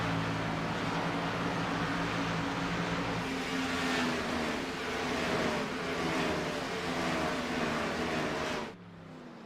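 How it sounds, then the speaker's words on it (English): Race car engines roar and rev in the iRacing simulator during a Stars & Stripes Series round at Las Vegas, a loud, continuous drone of several engines that drops away abruptly near the end. "I hear a lot of revving, yeah."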